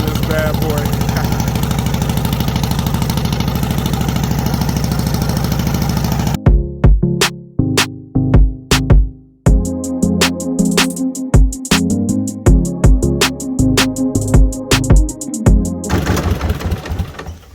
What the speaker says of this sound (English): Weld the muffler back on this bad boy.